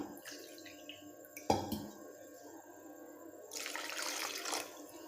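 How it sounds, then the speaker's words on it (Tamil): Water runs steadily into a cup for a second or so, a short knock sounds, then a fuller splashing pour picks up near the end. "அதே கப்பில் ரெண்டு கப்பு வந்து தண்ணி ஊற்றிக்கலாம்"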